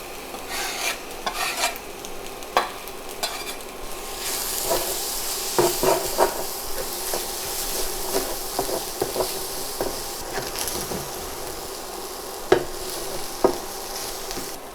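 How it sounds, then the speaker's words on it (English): Kimchi tipped into a hot pan already holding cooked mushrooms and bacon, giving a steady close sizzle broken by repeated scraping stirs and clatters of a utensil against the pan, with no talking. "So I'm gonna dump in the kimchi."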